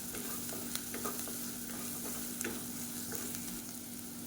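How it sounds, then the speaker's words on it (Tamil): Potatoes sizzle and fry steadily in a pan for a potato variety rice, with occasional stirring scrapes, a constant close crackle without talk. "இப்போ உருளைக்கிழங்கு நல்லா வறுபட ஆரம்பிச்சிருச்சு"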